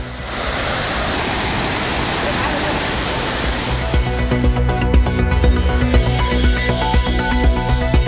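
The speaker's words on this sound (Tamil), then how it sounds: "கன்னியாகுமரி மாவட்டத்தில் தொடரும் கனமழையால் கோதை ஆற்றில் வெள்ளப்பெருக்கு" Flooded Kodhai river and Thirparappu waterfall swollen by heavy rain in Kanyakumari district, a loud continuous roar of rushing water, later overlaid by rhythmic background music.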